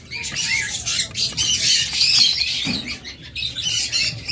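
A pair of red diamond doves calling, with repeated close, bright squawks and chirps over a faint background, no talking.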